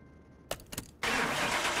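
A car engine starts after a wheel alignment, with a short whirring crank, a few catches, and then a sudden catch into a loud, steady running roar.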